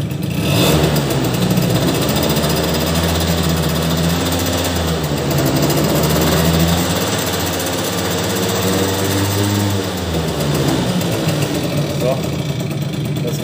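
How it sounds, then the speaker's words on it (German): A small two-stroke engine, just fitted with a new main jet, held at half throttle in a loud, steady, close buzz with slight pitch swells, while a voice talks over it. "Wir wollen noch ein bisschen Gas geben, ob alles geklappt hat."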